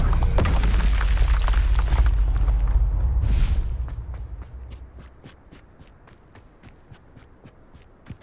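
Confringo fire spell explosion in Hogwarts Legacy: a loud, deep boom with rumbling debris for a few seconds, then fading into quieter scattered crackles and clicks.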